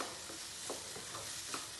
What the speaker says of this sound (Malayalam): വെജിറ്റബിൾസ് ഇടുക യോജിപ്പിക്കുക ഇതിങ്ങനെ